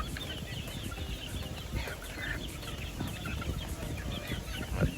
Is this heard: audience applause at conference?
no